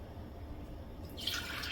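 Leftover morning coffee poured into a cup, heard as a close, steady trickle and splash of liquid that starts partway through after a quiet lead-in, with no talking.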